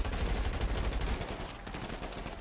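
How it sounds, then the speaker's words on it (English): Rapid gunfire in a video game roleplay shootout, a dense stream of overlapping shots, heavy at first and easing slightly, distant-sounding and fairly faint, with no talk over it. "Oh, Lord, they shooting for real!"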